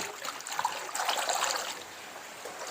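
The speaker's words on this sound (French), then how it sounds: "Je tamise pour changer un peu de l'eau" Water trickles and drains steadily from catfish (Clarias) being sieved to change their water, a continuous close splashing dribble with no talk.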